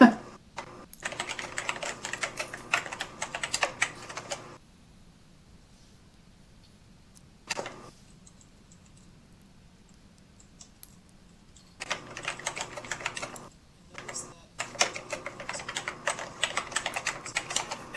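Computer keyboard typing in a Second Life orientation session, rapid clattering keystrokes in bursts with a long quiet gap in the middle, fairly close and clear, a faint voice briefly underneath.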